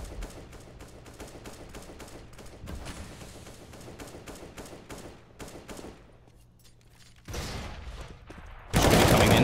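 Rapid gunfire from a Counter-Strike match on the Mirage map, a dense run of shots with a brief lull and then a loud, sharp burst at the end.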